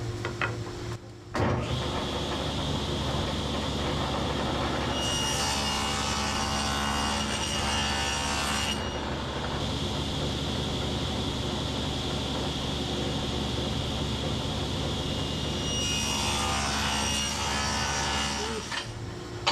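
A saw cuts a dado along the bottom of a plywood drawer front, a loud steady motor whine running almost continuously, with brief pauses near the start and end.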